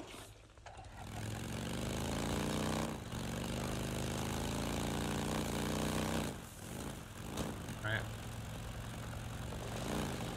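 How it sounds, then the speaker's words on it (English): Helicopter flying overhead in the post-apocalyptic game Days Gone, a steady droning rotor and engine hum that swells and fades, heard alongside a motorbike, with a brief spoken word. "How is there a chopper in this post-apocalyptic world?"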